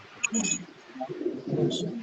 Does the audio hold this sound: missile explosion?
no